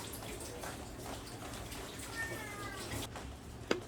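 A hungry cat in a home kitchen lets out a faint, brief meow over a low background hiss with some water sounds, and a short knock near the end.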